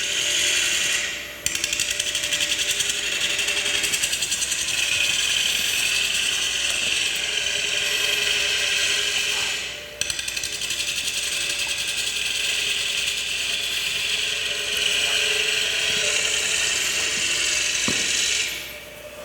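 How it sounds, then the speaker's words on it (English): A hand scraper shear-scrapes the rim of a quartersawn white oak platter, a steady, close, raspy scraping that runs almost continuously, broken by two brief pauses. "Notice my tool at an angle here, that's giving me a shear scrape across this surface here."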